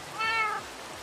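A single clear cat meow in a video game, with a rising-falling pitch, close and fairly loud, alone against faint background hiss.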